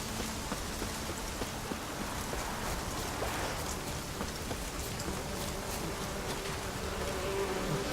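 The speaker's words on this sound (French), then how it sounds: "Ah, des abeilles." Bees buzzing in The Witcher 3, a soft continuous insect hum with scattered ticking and patter like light rain, quiet and steady throughout.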